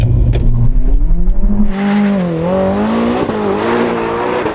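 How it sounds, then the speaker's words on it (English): A drag racer revs hard to warm its tyres before a drag race, a loud sustained engine roar with rising and falling pitch and tyre squeal, close by. "He's warming up his tyres."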